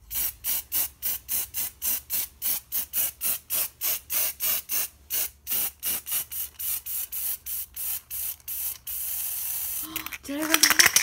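Repeated short hissing bursts of a spray paint can, painting costume boots and a belt, in a fast, steady rhythm, then a longer continuous spray that sputters near the end, close by.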